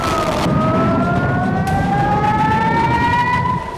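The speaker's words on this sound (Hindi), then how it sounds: "इजरायली शहरों में सायरन गूंज रहे हैं" Air raid sirens wail over an Israeli city, several loud sustained tones slowly rising in pitch and overlapping, with distant traffic rumble underneath and no voices.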